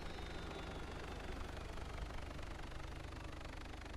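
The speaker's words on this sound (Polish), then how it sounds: "niech on się zatrzyma ten silnik do końca" A vehicle engine idles steadily in the video game DayZ, a continuous low rumbling drone with a faint knocking pulse, close and even in level, with no talking over it.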